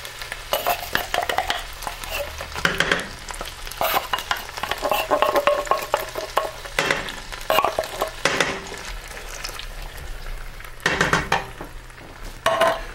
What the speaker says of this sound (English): I'm just going to throw my beans into the frying pan.